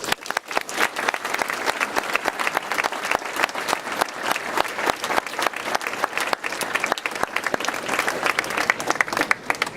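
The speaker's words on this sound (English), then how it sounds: "Let's give them a round of applause" Sustained applause from a crowd at a swimming facility dedication ceremony, dense and steady clapping filling the whole stretch at an even, fairly loud level.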